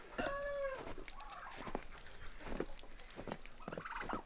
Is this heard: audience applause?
no